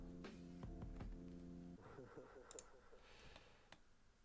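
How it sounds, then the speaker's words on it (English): A computer mouse clicks several times while someone works on a 3D commission in Blender. The clicks are sharp and close over a steady low hum, followed by lighter scattered ticks. "you might hear my mouse clicking"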